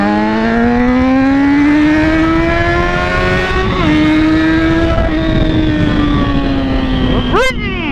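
A Yamaha XJ motorcycle engine revs loud and close, its pitch climbing steadily, dipping briefly, then surging again before a sharp final blip of the throttle.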